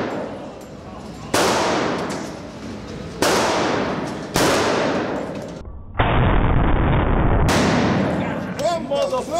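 Several booming shots from a gold Desert Eagle pistol fired at close range, each a sharp loud blast trailing into a reverberant decay, spaced a second or two apart, with people talking over the gaps.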